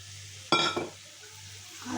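Fried prawns are tipped into cabbage frying in a pan. A short, sharp burst of sizzling and stirring starts at the moment they go in, then fades back to a low hum, with a faint rustle at the end.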